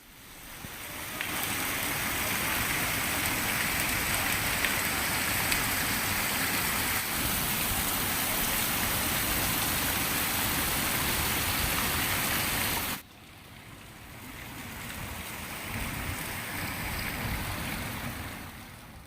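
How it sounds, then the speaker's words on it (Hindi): Heavy monsoon rain pours down in the Talagang district of Pakistan, a loud, dense, steady roar of falling water that drops in level partway through, then continues more softly. "उधर बारिश ने रंग बखेर दिए सब्जे में, बहुत तेज बारिश है।"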